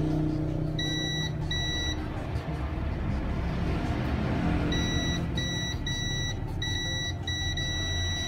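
A multimeter in continuity mode beeps while probing a small capacitor on a Xiaomi Redmi 7A phone circuit board, giving short repeated high-pitched tones in clusters over a steady background hum.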